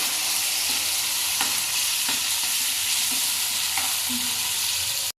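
Masala for Kashmiri chicken frying hard in a pan, a loud continuous sizzle broken by occasional scrapes and knocks of a spatula stirring it.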